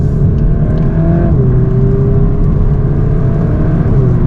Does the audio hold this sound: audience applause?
no